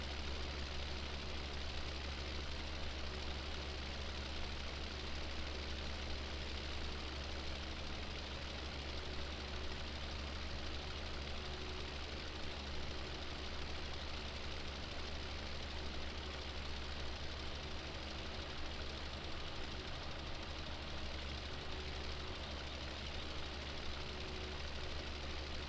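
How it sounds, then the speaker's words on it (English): A tractor engine idles steadily in the Farming Simulator 17 video game, a low continuous rumble with a faint knocking pulse that holds at constant loudness throughout, with no talk over it. "that's a pretty nice looking tractor, I'd have to say"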